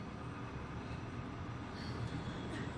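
A tram in the Resident Evil 2 video game pulling into the Nest station: a steady, low rolling rumble with a faint metallic squeal toward the end and no voices.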